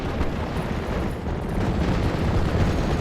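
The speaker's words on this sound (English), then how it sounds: "that's the 14 inchers going off" 14-inch naval guns firing in Steel Division: Normandy 44, a dense rolling rumble of heavy distant blasts blending into continuous booming, loud and sustained with no talking.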